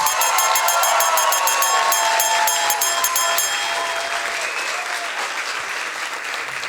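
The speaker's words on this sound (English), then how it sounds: "Big applause for Jun." An audience at a science slam event in Berlin breaks into loud, dense applause that holds steady for a few seconds, then gradually thins and fades out.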